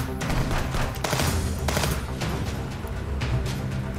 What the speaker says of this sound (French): C'est la mitraillette que j'ai.